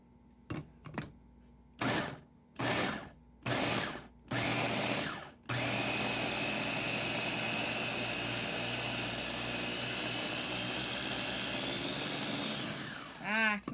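A grinder processes partly defrosted frozen food, first in five short loud bursts with pauses, then one long continuous whirring grind that runs nearly to the end before winding down.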